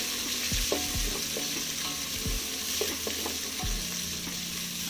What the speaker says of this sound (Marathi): आता आपण जो कट करून कांदा घेतले तोही आपण घालूया त्याच्यामध्ये, कट करून घेतलेला कांदा आणि आता ती ही लाल मिरची घालायची आपल्याला त्याच्यामध्ये